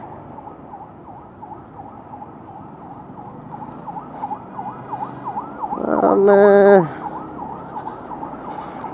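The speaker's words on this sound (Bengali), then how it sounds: "অ্যাম্বুলেন্স তো হয়তো কোনো ঝামেলা আছে।" An ambulance siren wails on the road in a steady, repeating rise-and-fall pattern heard throughout, with a brief loud horn blast partway through and a few spoken words.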